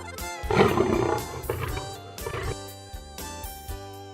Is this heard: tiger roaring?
yes